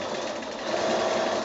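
A sewing machine stitching quilt binding on a project bag, a steady fast mechanical whir with a thin running hum, close and moderately quiet, with no talk.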